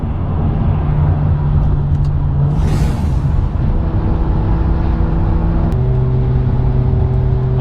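A parade of BMWs rolls past on the way to a car show, including an E36 M3 Evolution, an M135i and a 5-litre V10 M5. Engines drone loud and close in a steady rumbling hum, with shifting tones as the cars pass.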